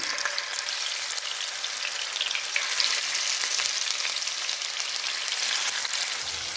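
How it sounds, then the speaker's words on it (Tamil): Murrel fish pieces fry in hot oil in a pan, a close, continuous crackling sizzle holding steady throughout with no speech. "இப்போ ஒன்று ஒன்றா போட்டு பொறிச்சு எடுத்துக்கொள்ளுவோம்"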